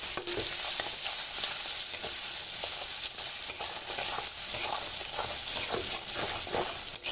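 Bitter gourd frying in a pan with onions, green chillies and spices, a steady close sizzle with spatula stirring scrapes throughout.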